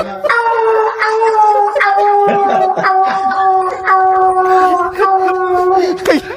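A voice imitates a dog howling, a long wavering whine sustained for several seconds with small breaks, loud and close.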